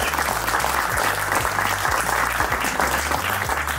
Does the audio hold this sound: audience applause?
yes